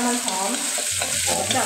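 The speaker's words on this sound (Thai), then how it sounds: "ัน จะ ม ัน หอม จะน้ำมันหอมคั่วกับน้ำมันนะครับผม" Chili sizzles and is stirred in hot oil in a wok, a steady close frying hiss with scraping stir strokes throughout, no talking.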